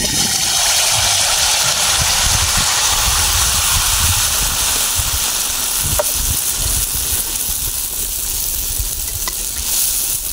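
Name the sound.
palm-fruit pitha (cake) sizzling as it fries in oil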